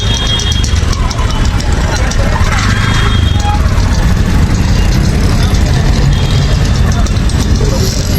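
An auto rickshaw engine runs and idles on a busy street in Ambarnath, a loud, steady, rattling drone close by, with a person talking over it.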